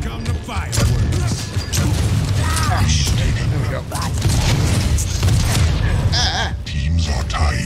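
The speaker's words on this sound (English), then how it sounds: "Here come the fireworks." Booming video game fireworks crackle and burst repeatedly over a dense, noisy game soundscape, with a voice talking throughout.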